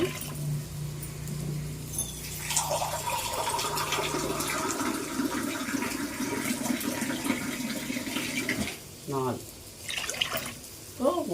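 Water is poured into rice in a cooking pot, a steady splashing fill that runs for several seconds before stopping, with a voice talking over and after it.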